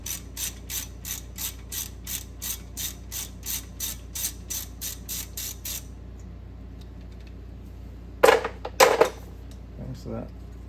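A ratchet clicks in a steady, evenly spaced series of about fifteen sharp ticks while backing out a 10mm bolt on a 2wd Chevy Silverado GMT800 truck, followed by a couple of metallic clanks.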